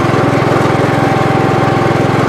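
A 1981 Gravely 8122 garden tractor engine runs loud and close at a steady idle, its rapid even chugging pulse unbroken throughout with no talk.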